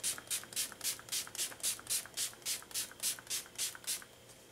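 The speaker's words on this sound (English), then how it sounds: "I'm just going to spray my face down with this Slay All Day by Gerard Cosmetics." A mattifying setting spray from Gerard Cosmetics is misted onto a face in about fourteen quick, even pumps. Each one makes a soft, close hiss in a steady rhythm, with no talk.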